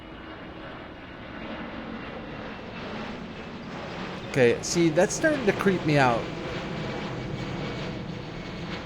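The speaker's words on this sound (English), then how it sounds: "Oh, that sounds like a 737." A passenger jet like a Boeing 737 passing overhead in Farming Simulator 22, a steady broad engine roar with a rising whine that holds throughout, while someone speaks over it midway.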